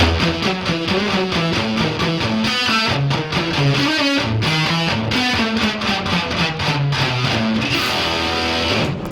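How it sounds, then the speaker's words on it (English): A distorted electric guitar chugs through steady, muted downstrokes in a driving rhythm, thick and loud throughout. "you can add some grit and muting and lots of downstrokes"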